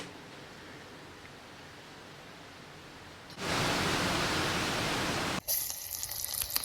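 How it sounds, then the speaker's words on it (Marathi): Garlic hits hot oil in a cooking pot, a sudden loud sizzle bursting in after a quiet start, holding steady for a couple of seconds, then breaking into fainter crackling. "इकडं सगळ्यात आधी आपण लसूण टाकलंय"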